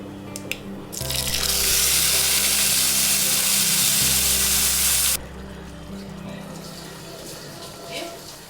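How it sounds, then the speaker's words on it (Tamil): Freshly ground raw chutney hits hot oil with curry leaves, setting off a sudden loud, hissing sizzle that lasts about four seconds, then drops to a quieter, steady bubbling. "இப்போ நம்ம அரைச்சி வச்சுருக்க சட்னியை அதில் போட்டுக்கலாம்."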